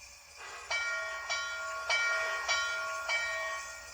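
A model locomotive bell rings steadily, about five clear metallic strikes in a regular rhythm over a faint background hiss.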